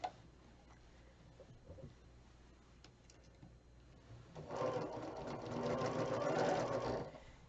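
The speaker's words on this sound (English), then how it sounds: "And I'm going to backstitch my borders." A sewing machine stitches and backstitches quilt borders, starting after a quiet stretch and then running steadily and fairly loud for about three seconds before stopping.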